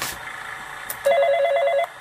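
Telephone ringing in Five Nights At Smudgers 2, a single electronic trilling ring that starts partway through, loud and close, then cuts off, with no talking.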